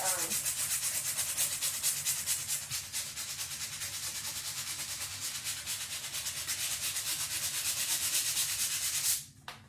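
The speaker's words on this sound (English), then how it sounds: "this is how you would just sand it right off" A decoupage piece is sanded by hand with steady back-and-forth rubbing strokes, close and continuous, stopping abruptly near the end.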